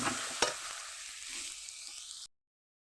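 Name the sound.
tomatoes being stir-fried with fried spices in a pan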